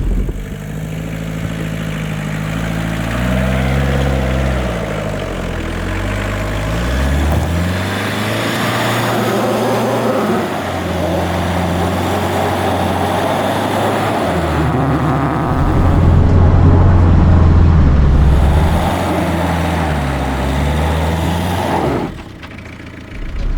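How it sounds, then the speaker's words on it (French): A Suzuki Samurai 4x4 in four-wheel drive and short first gear climbs a steep rocky slope, its engine droning loud and close and rising and falling in revs as it strains, then dropping away briefly near the end. "Je suis en 4 roues motrices, première courte."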